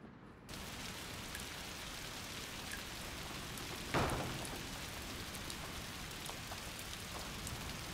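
Rain in the video game A Plague Tale: Requiem, a steady dense patter of falling water with one brief, slightly louder splash partway through, heard alone.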